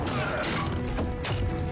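During a Game of Thrones battle, a giant pounds on a door, giving heavy, repeated crashing thuds with splintering bursts over a continuous loud din.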